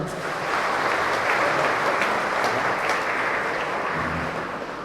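A church congregation breaks into full applause during a homily, a broad, steady wash of many hands clapping that swells quickly and fades slightly at the end.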